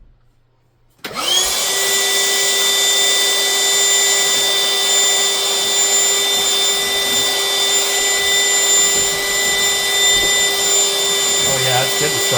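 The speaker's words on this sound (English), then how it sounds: "Vacuum it out and should be able to hear the things getting sucked up in there." A vacuum cleaner switches on after a moment of quiet and runs loud and steady with a high whine, occasional rattles of lint being sucked out of a dryer vent.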